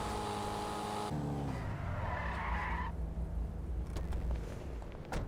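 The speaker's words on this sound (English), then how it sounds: "the number one feature about this car is the exhaust. I absolutely love the way it screams" Invetero Coquette D1 sports car in GTA Online, engine revving high and screaming, then dropping as tires squeal and skid, loud and close with no talking.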